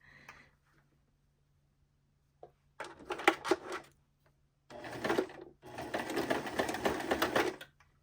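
A serger stitching a seam on fleece pajama shorts: three short bursts of rapid, close mechanical whirring separated by pauses, the last run longest, over a faint background hum.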